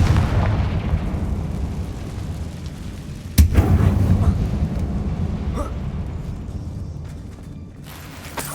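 A Confringo blasting spell explodes in the Hogwarts Legacy video game, a single sudden boom followed by a rumbling decay over a low roaring background, with a smaller crack shortly after.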